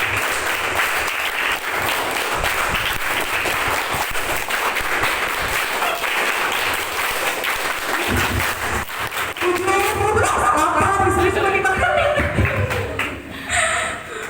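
Group clapping at a motivational seminar in an Islamic boarding school, a full hall striking a repeated five-beat clap pattern in unison, dense and loud throughout with brief crowd noise near the end.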